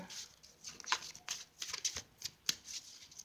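Tarot cards being shuffled produce quick, soft riffling and flapping bursts, close and fairly quiet, repeating in an uneven rhythm with no voices.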